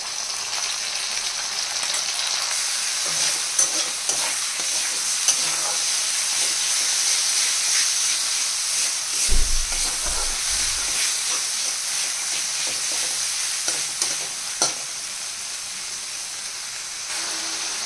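Ginger garlic paste frying with onions in a pan for an Odia-style prawn curry, giving a steady close sizzle and hiss throughout, with a few brief clatters and knocks breaking in now and then.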